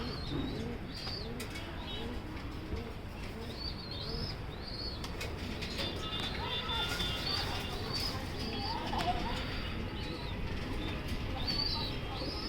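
Several racing pigeons coo repeatedly in soft, rolling calls, with faint wing flutters and a low background murmur throughout.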